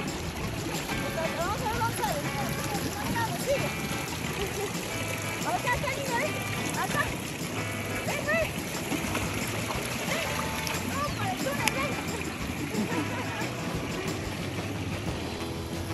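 A young girl wades and splashes in an irrigation ditch, with steady flowing water and intermittent splashes running throughout alongside nearby voices talking over it.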